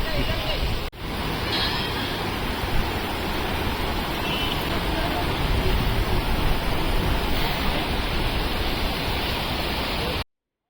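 Open-air water from a stream flows through the ablution area of an open-field mosque, a steady broadband rush that holds evenly throughout, with a brief dropout near the start and a cut at the end.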